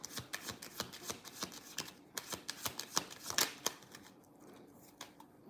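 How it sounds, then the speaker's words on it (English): Tarot cards being shuffled by hand close by: a quick series of crisp riffling flutters and taps in bursts, quiet overall and fading toward the end. "I had a comment that asked why tarot readers like constantly shuffle"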